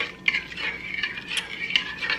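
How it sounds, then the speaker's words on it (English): A spoon stirs sugar in a bowl, quick scraping swirls repeating close up and fairly quietly, with no voices. "just take a spoon and mix it up real quick, just to ensure everything is incorporated"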